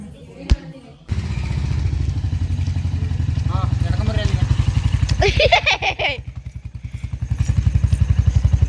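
A new Royal Enfield Bullet motorcycle thumps with a loud, close, rhythmic engine beat, while children and adults chatter over it.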